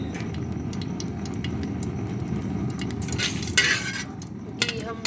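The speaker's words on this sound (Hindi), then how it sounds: "बीटर की मदद से इजी हो जाता है। इसे हम अच्छी तरह मिक्स कर लेते हैं।" A beater whisks egg and gram flour (besan) batter for a halwa in a bowl, making a steady close-up scraping and swishing with a few sharper clinks of metal near the end.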